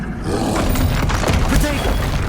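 Spell blasts crash and rumble in the Hogwarts Legacy video game, with dense explosive booms and shattering impacts filling the mix continuously, loud and close, while shouted voices cut in over the noise.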